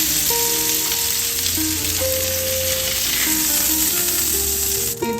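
Marinated chicken frying in a pan makes a loud, continuous sizzling hiss, steady throughout and close, under soft background music, with no one speaking.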